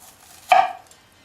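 A knife slices partway through an onion being cut in a grid pattern for dicing, giving one short, close crisp cut with a quick fade and no talking.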